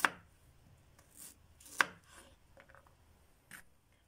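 A knife chopping and slicing food into thin slices on a board in an outdoor village kitchen, with two sharp, close cuts followed by softer scraping and a faint third cut, no talking.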